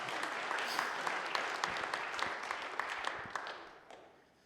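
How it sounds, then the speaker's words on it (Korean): A church congregation at a Sunday worship service applauds together, a steady burst of claps with sharp individual hand strikes, held for a few seconds and then fading away. "박수 한번 쳐주세요."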